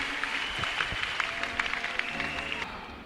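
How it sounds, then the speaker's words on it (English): A church congregation claps hands for Jesus at a Sunday service, a busy steady clatter of many hands with a few sharper claps standing out, moderately distant. "Clap your hands for Jesus."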